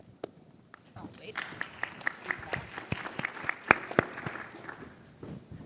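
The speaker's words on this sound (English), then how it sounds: "Thanks, Mark, for starting the clapping for me trend" A small audience at a journalism talk breaks into clapping that builds to a steady patter of scattered hand claps, moderately close, with a few louder individual claps and faint murmuring underneath.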